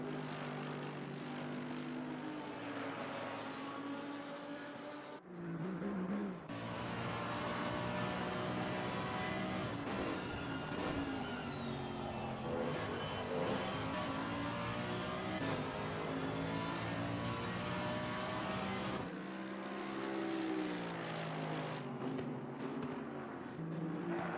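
Mercedes GT3 race car in Assetto Corsa Competizione racing through chicanes and over curbs, its engine loud and close, revving and droning continuously with pitch rising and falling through gear changes and corners, a brief drop around the braking points.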